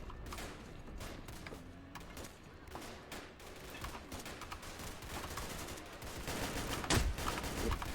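Gunfire in the STALKER Faction War mod, scattered shots in a dense, noisy firefight mix with one sharper crack near the end, fairly muffled and continuous.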